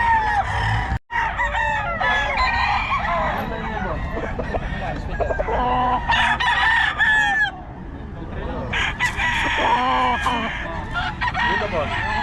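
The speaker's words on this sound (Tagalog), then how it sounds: "Marami pa siyang manok sa bahay." Roosters crow loudly and repeatedly, and chickens cluck among many fowl kept at a house in Bocaue, while people talk nearby.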